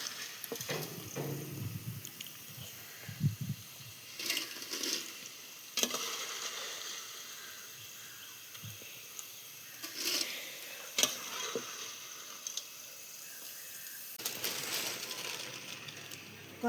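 Jackfruit chips frying in hot oil, a steady crackling sizzle with occasional sharper pops and stirring scrapes, close and moderately loud throughout.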